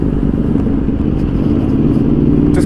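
A 2017 Aprilia RSV4 RF motorcycle fitted with a carbon Akrapovic slip-on exhaust, baffle removed, idles or cruises with a deep, steady rumble up close in city traffic, a faint clatter rising near the end.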